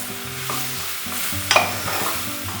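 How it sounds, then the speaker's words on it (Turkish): Thinly sliced mushrooms hiss and sizzle in a hot pot while a spoon stirs them, a steady close frying crackle with one brief scrape of the utensil. "Şimdi ince ince doğradığım mantarlarımı içine atıyorum. Yine karıştırıyorum biraz."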